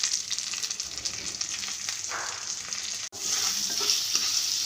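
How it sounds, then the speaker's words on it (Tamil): Curry leaves and turmeric powder sautéing in hot oil in a pan, a continuous bright sizzle with soft stirring scrapes and a brief break partway through, no talking. "ஸோ இந்த மஞ்சள் பொடி வாசனை கொஞ்சம் போகிற வரைக்கும் நல்லா வதக்குங்க."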